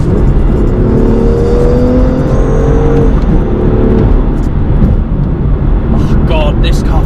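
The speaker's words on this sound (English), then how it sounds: "Turbo spools up so quick." BMW M2 "OG" with manual gearbox accelerating hard from inside the cabin, steady engine drone with rising whine of the turbo spooling up over several seconds, a voice speaking over it.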